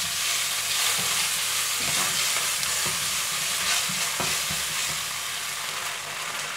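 Tofu and dried shrimp are stir-fried in a hot pan, giving a steady frying sizzle with occasional scraping stir strokes and no talking.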